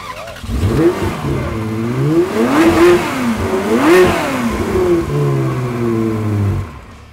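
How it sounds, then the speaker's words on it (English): A Ferrari engine revs hard with the throttle open, rising and falling in several loud sweeping pulls close by before settling into a sustained high drone and cutting off. "I'd love to hear this Ferrari with its throttle open"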